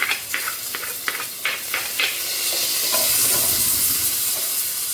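Garlic frying in a pan as the base for a chicken stew: a loud continuous sizzle and hiss, with a few stirring scrapes early on, no talk.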